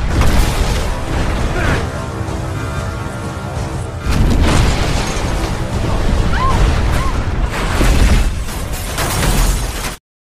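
Loud booming explosions burst out, with rumbling blasts and crashing debris in a chaotic, dramatic scene, ending abruptly.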